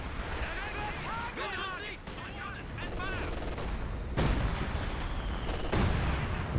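An artillery barrage thunders in a Company of Heroes 2 multiplayer match, with repeated booming impacts and crackling blasts among distant gunfire, while a commentator talks over the action.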